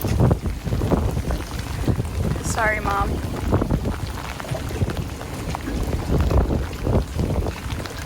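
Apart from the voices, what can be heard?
torrential rain and wind on boats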